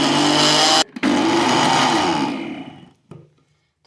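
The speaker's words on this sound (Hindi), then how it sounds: "मैं इसे ब्लेंडर में कर रही हूँ" Electric blender whirring loudly as it grinds a homemade Nutella mixture, running steadily with a brief cut-out near one second, then winding down and falling quiet by the end.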